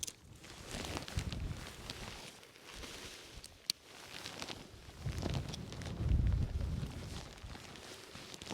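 Gusty wind buffets the microphone at a Lake District campsite, rising and falling in low rumbling surges with rustling and a few footstep-like taps, one sharp knock in the middle.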